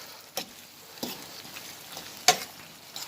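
Corned beef and pasta being stirred in a pot, a quiet low simmer broken by several distinct spoon scrapes and clacks at irregular intervals, one sharper knock standing out.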